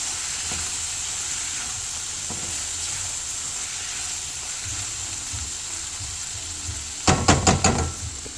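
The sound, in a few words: ridge gourd frying and being stirred in a pan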